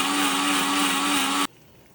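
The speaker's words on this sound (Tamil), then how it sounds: "நமக்கு மஷி போல் அரைச்சிக்கலாம்" A mixer grinder runs loud and steady, grinding coconut curry paste with a constant high whine for about a second and a half before cutting off abruptly.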